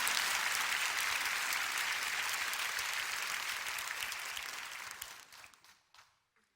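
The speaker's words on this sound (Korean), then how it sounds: "이때 박수를 쳐야 돼, 사실은." Congregation applauding in a church service, a dense steady wash of many hands clapping that thins and fades out over the last second or so.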